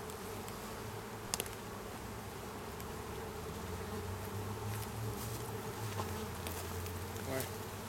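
Honeybees buzz steadily at an open beehive during an inspection, a dense continuous drone with a few brief clicks and knocks.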